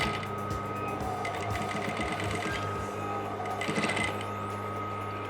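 A sewing machine stitches a traditional shirt placket, its motor whirring in a steady, close, continuous run with short bursts of faster stitching and no talk over it.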